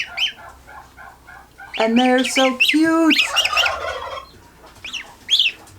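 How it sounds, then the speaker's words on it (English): Two young African geese give high peeping and honking calls up close, mixed with a person talking. "2 little African geese."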